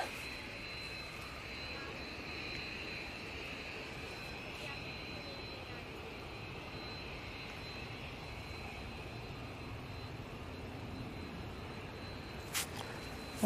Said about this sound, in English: That's the EasyJet A320neo coming in from Tivat